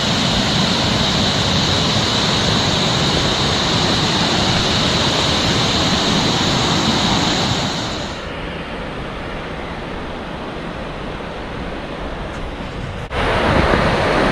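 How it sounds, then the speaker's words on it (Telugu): A waterfall drops from a great height in the Har ki Dun valley beside a year-round river, giving a loud, steady roar of rushing water that drops abruptly to a softer, continuous wash partway through. "Nice water fall. చాలా హైట్ నుంచి పడుతూ ఉంది."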